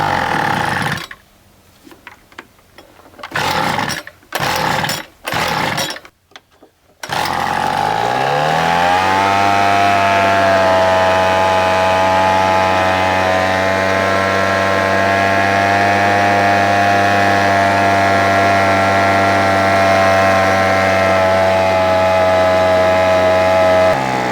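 A repaired two-stroke leaf blower on a snowy day coughs through several short sputtering bursts, then catches and runs loud and steady at close range for the rest of the time.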